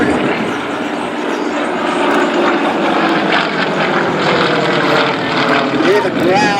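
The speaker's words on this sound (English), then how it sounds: "Hear the growl of that big Russian radial engine developing 400 horsepower" A Yak-50 aerobatic plane's big 400-horsepower Russian radial engine growls loudly and steadily overhead at an air show, a continuous rough drone filling the whole stretch with slight swells in intensity.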